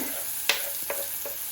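Onions and capsicum hiss in a hot pan for Schezwan rice, with three quick stirring scrapes standing out over a continuous close sizzle.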